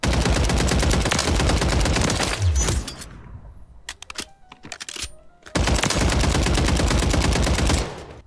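Rapid semi-automatic gunfire from a weapon in the video game Warzone, loud dense bursts of shots with a brief quieter pause of scattered pops in the middle before the fast firing resumes.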